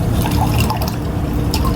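Liquid is poured over ice into a cup, with a close, continuous trickle, splashing and crackly ice clinks throughout.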